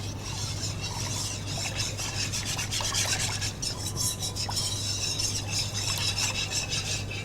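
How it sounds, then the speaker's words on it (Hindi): Steady scraping and stirring in a pan as turmeric powder is mixed into a vegetable curry, a continuous gritty rub throughout with a low hum underneath and no talking. "और ये डालने के बाद आपने इसको अच्छा सा मिक्स करना है।"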